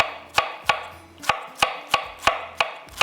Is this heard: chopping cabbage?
yes